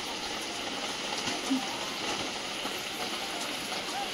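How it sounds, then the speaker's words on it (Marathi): Light rain falls outdoors near a muddy roadside, a steady, even hiss throughout with no distinct drops or other events standing out. "रिमझिम पाऊस चालू आहे आता"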